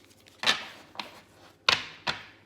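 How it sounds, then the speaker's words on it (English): Tarot cards are given a hard shuffle, producing four sharp, riffling snaps in uneven pairs, close and crisp against a quiet room. "I need a good hard shuffle"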